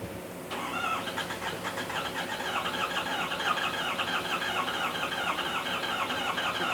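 A Ford F250 with the 6.7L diesel engine, its tank wrongly filled with DEF fluid, cranks and then catches, settling into a steady, fairly quiet rumbling idle with a faint squeal. No one speaks.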